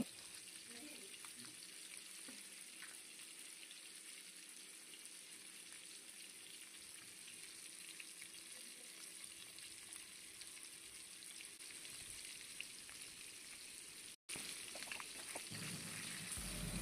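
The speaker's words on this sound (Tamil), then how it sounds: "முக்கியமாக மீன் வறுக்கும்போது ஃபுல்லில் வைக்காதீங்க கேஸை சிம்மிலே வச்சு வறுக்கணும்" Jilebi fish pieces fry on low flame in a pan, a quiet, continuous close sizzle with faint stirring, briefly cut out near the end before resuming slightly louder.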